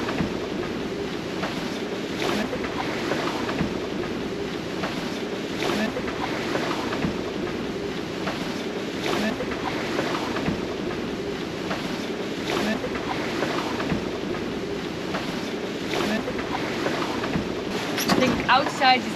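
Ocean waves and gusting wind aboard a sailboat on a solo passage from Tonga to New Zealand, a steady broad rush with periodic surges of water and buffeting wind against the microphone, continuous throughout.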